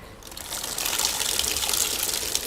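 Water gushes and splashes out as a soaked microfiber car wash cloth is wrung by hand, a loud continuous pour that starts abruptly and carries on without talk.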